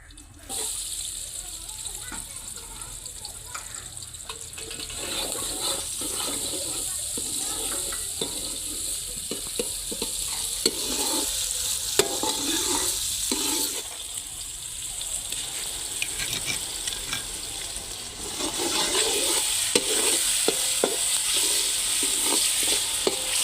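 Murgi ke panje karahi cooking in a pot of ghee, with steady sizzling and intermittent stirring scrapes throughout and a voice talking over it now and then.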